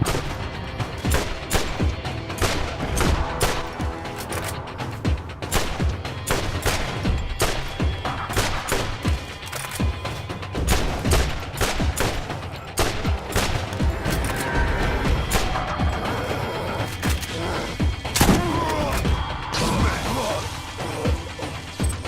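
Rockets are fired at an enemy in a video game, heard as a rapid run of loud blasts and crashing impacts with dense, near-continuous explosive bursts throughout.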